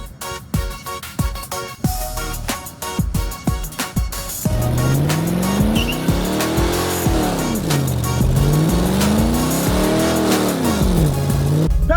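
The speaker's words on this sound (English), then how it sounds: "we're gonna go do some burnouts" A Corvette doing a burnout: the engine revs in sharp repeated bursts, then holds high with a long continuous tire squeal that rises and falls in pitch, loud and close.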